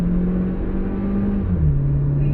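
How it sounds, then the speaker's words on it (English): A 2019 Volkswagen Jetta SEL floored off the line in sport mode, heard from inside as a loud, steady engine drone whose pitch drops briefly partway through as it shifts. "And again, just flooring it right off the line."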